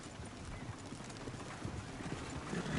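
Horse hooves clip-clop steadily in the video game Red Dead Redemption 2, a continuous rhythmic trot heard fairly softly and without talk.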